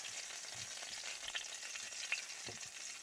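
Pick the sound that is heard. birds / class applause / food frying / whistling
food frying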